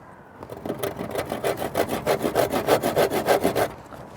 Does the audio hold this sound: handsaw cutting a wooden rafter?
yes